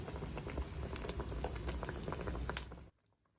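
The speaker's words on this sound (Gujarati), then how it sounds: "હવે આપણે આ બટેકાની સ્લાઈસને અંદર તેલમાં નાખીને તળી લેવાનું છે" Battered potato slices for dabda bhajiya sizzle and crackle in hot oil over a medium gas flame, a busy close-up fizz of popping bubbles that cuts off abruptly into near silence.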